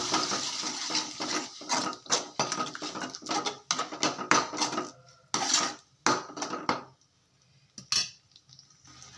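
A spoon stirs tomato, coriander and ginger-garlic paste in a pot for a fish pulusu, giving a quick run of close metallic scrapes and clinks, then a few sparse strokes separated by silence, with no talking.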